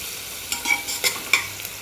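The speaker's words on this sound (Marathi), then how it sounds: "तुम्ही पाहू शकता कांदा आपला भाजत आलेला आहे आणि थोडासा हिंगसुद्धा त्यात टाकलेला आहे" Onion fries in oil with a pinch of asafoetida, a soft steady sizzle broken by several sharp stirring scrapes and clinks of the spoon against the pan.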